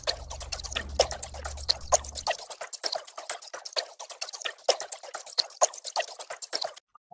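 Reversed water sample used as a glitch percussion element in a minimal tech production, sputtering dripping and bubbling textures in a dense, steady stream, with a low droning hum underneath for the first couple of seconds before it cuts out abruptly.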